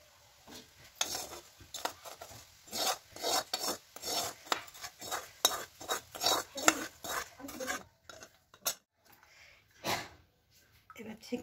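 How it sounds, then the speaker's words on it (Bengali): Homemade ghee strained through a sieve into a bowl in a village kitchen: rhythmic scraping and rasping strokes of a utensil against the mesh, close and fairly loud in bursts, with brief pauses. "ঘিটা ছেঁকে নিচ্ছি।"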